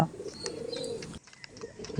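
A male Madrasi pigeon coos in low, throaty murmurs, with a brief quiet gap midway and faint chirps in the background.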